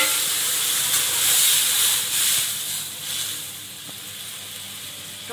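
Water poured into a pan of fried taro sets off a steady steamy hiss and sizzle that swells and eases gently over several seconds, close by with no talking.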